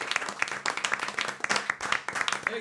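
Audience applause at a French chansonnier cabaret show, a dense continuous patter of many hands clapping steadily at moderate loudness, with no talk over it.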